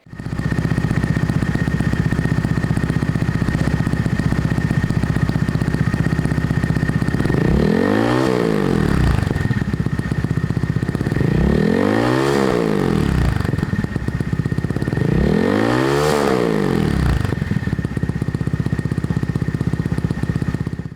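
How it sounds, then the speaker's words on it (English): A Honda motorcycle with a Tyga Performance underbelly exhaust idles loudly, then revs hard three times in evenly spaced bursts, each rising and falling back to a steady rumble. "let me do a sound check first with this exhaust so that you can hear what it sounds like"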